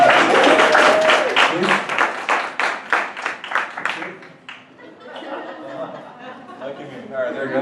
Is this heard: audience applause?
yes